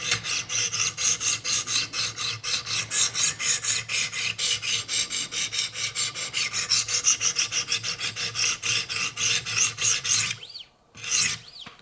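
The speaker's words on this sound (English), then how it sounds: "I'm switching to 200 grit and I'm gonna just grind away on each side for a little bit." A knife edge being sharpened on a 200 grit Wicked Edge stone, with S90V steel on a Benchmade Altitude: steady, rhythmic rasping strokes, close and even, repeating for about ten seconds before stopping.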